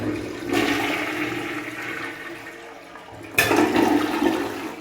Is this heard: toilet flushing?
yes